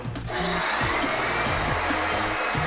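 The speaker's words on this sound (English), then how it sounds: "Now when I turn on the air compressor, it's going to get really loud in here" Air compressor in a screen printing shop runs loud and continuous, a dense roaring hiss filling the space over faint low music.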